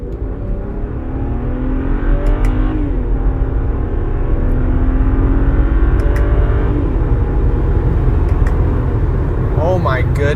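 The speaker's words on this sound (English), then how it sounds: "I just hit 80 miles an hour in 3rd gear." A BMW with the N54 engine and new injectors accelerates hard on a highway in third gear, a loud, steady, rising engine drone with road roar filling the whole stretch.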